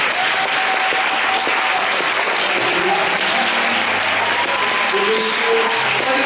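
Sustained audience applause at a concert fills the whole stretch, dense and steady throughout, with faint voices and a few brief tonal traces beneath the clapping.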